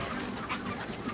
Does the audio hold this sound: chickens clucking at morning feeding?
yes